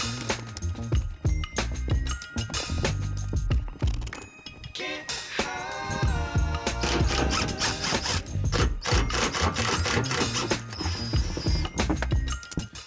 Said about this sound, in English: So let's unscrew this and get it out.